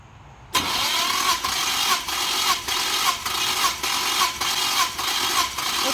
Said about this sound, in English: I usually turn the engine over about 4 times